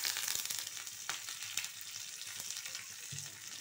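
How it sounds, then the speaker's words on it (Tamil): Curry leaves, mustard seeds and urad dal hit hot oil for a coconut chutney tempering, giving a continuous close hiss and crackle with a few sharper pops, fairly quiet and steady, with no talking. "இப்போ நம்ம கருவேப்பிலை சேர்த்துக்கலாங்க."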